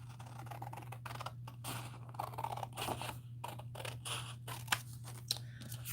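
Card bases being cut with scissors, a run of close, crisp snips and crunches in uneven rhythm, with a couple of sharper clicks toward the end.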